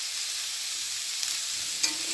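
Cauliflower and soy chunks fry in hot oil in a pan, a close, steady sizzle with a couple of brief stirring clinks, no voices.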